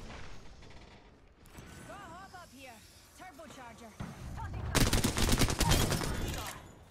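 Rapid bursts of gunfire in a multiplayer shooter game erupt loud and dense near the end, after a stretch of players talking over quieter game noise.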